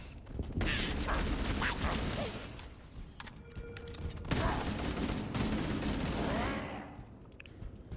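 Rapid bursts of gunfire from a gun in the video game Halo: Campaign Evolved, loud and repeated with brief mechanical clicks between volleys, continuing for several seconds.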